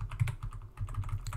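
Rapid typing on a computer keyboard while editing code, a quick irregular patter of close, crisp keystrokes with no speech.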